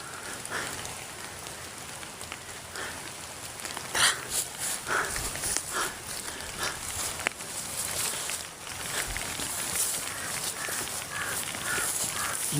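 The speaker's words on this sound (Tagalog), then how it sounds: "Grabe talaga yung uwak tol." Crows caw in a forest in a few scattered, moderately distant bursts over a constant soft hiss, with no talking.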